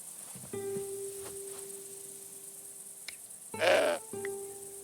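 A goat bleats in the video game Broken Sword 5, giving a long sustained cry followed by a louder, strained bleat near the end, over a quiet backdrop of chirping insects.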